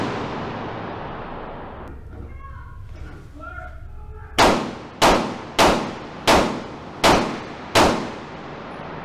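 Six evenly spaced loud gunshots ring out in a video game, each a sharp crack with a short decaying tail, following a few seconds of quieter sound with speech.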